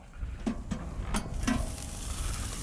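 Butter melting and sizzling in a hot pan while fish cooks aboard a boat, a steady close hiss with a few soft clicks and knocks from the pan.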